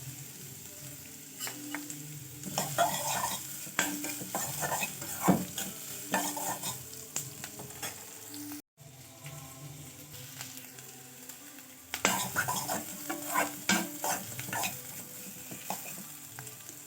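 Onions fry in a pan with steady sizzling and crackling, occasional stirring scrapes and clinks, close by and continuous with a brief break midway.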